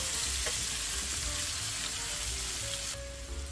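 Chopped onion and minced garlic cook in butter with a dense, continuous sizzle close by, and an occasional stir breaks the frying noise before it eases slightly near the end.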